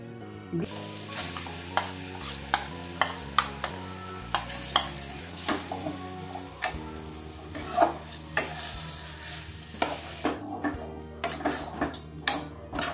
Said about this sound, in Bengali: এবার আমি ডালটা একটু কড়াই তেল দিয়ে একটু ডালের মধ্যে যে এক্সট্রা জলটা আছে ওটা একটু শুকিয়ে নেব।